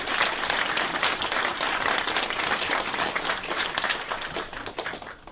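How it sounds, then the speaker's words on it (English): Sustained applause from a Tea Party meeting audience, dense clapping from many hands that holds steady and then slightly tapers. "So a big round of applause to all of you who carried Scott Brown."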